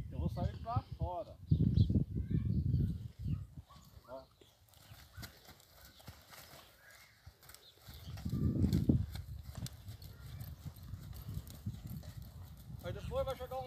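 Mare's hooves clip-clopping during training as she is worked, rhythmic steps rising and fading in two stretches, with a rider's voice talking over them outdoors.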